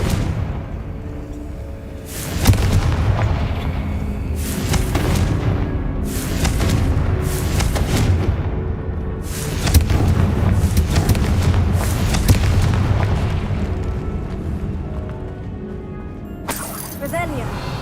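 Confringo fire spells bursting in Hogwarts Legacy combat: about ten loud, booming blasts come in quick, uneven succession, each a sharp crack with a rumbling tail, over a constant low rumble of game noise.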